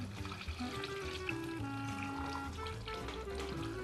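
Warm water poured from a container into a jar packed with sliced beetroot for fermented beet kvass, a steady continuous flow with gentle splashing, close and moderately loud throughout.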